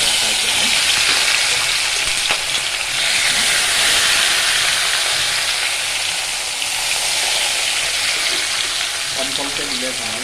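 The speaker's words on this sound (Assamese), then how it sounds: "এই মাছকেইটা মই প্ৰথমতে ফ্ৰাই কৰি লওঁ" Fish rubbed with salt and turmeric frying in hot oil in a small kadai, a steady loud sizzle and hiss throughout with faint stirring clatter.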